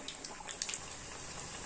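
Thalipeeth made from fasting bhajani flour frying in hot oil over a medium flame, a faint, steady sizzle with a few soft crackles and pops.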